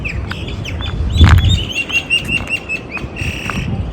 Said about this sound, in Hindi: कहाँ से आवाज़ आ रहा है दिख तो नहीं रहा है मुझे. चिड़िया.